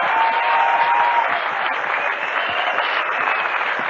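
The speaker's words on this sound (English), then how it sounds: "I think you should applaud yourself for being here." Audience at a talk on psychedelic drugs bursts into steady, dense applause, a continuous wash of many hands clapping that holds evenly for the whole stretch without speech.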